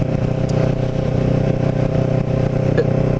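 A Kawasaki Ninja 650R is ridden through the streets of West Cape May. Its engine makes a loud, steady drone heard from the rider's position, with no speech over it.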